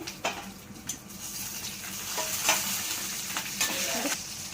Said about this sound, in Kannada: ಸ್ವಲ್ಪ ಜೀರಿಗೆ ಒಂದು ಏಲಕ್ಕಿ ಸ್ವಲ್ಪ ಚಕ್ಕೆ ಲವಂಗ ಹಸಿ ಮೆಣಸಿನ್ಕಾಯಿ ಒಂದು ಪಲಾವ್ ಎಲೆ ಹಾಕ್ಕೊಂಡಿದ್ದೀನಿ ನೋಡಿ ಆಯಿಲಲ್ಲಿ ಹಾಕೋತೀನಿ